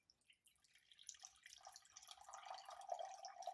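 Chicken broth glugs and trickles out of a partly opened can with an air hole, rising from a faint start to a steady pour.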